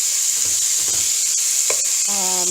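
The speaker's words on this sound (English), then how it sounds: "just going to let that brown, get a nice sear on all sides of your beef." Beef chunks searing in a hot pan for stew give a loud, constant hissing sizzle with a few light scrapes, close up, and a brief faint voice near the end.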